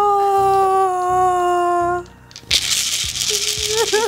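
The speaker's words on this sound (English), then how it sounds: "This is called the Ishaka, and this is like a musical instrument." Ishaka, a Nigerian shaker rattle, bursts in with a sharp rustling shake after a stretch of tonal background noise, continuing in close loud rattling pulses.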